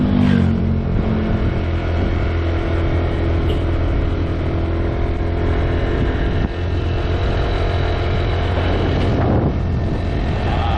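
A motorbike engine drones steadily while riding up a road above Jalan Cadas Pangeran, heard as a continuous loud roar mixed with wind buffeting on the microphone and no talking.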